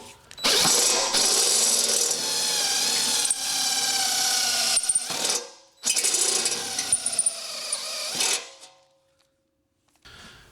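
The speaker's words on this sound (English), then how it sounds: "I am going to start drilling these out for our inserts" A power drill bores holes for seven inserts in a part from a 1948 Silver King tractor's instrument panel or grille, running loud and steady in two long bursts, each stopping abruptly, followed by quiet.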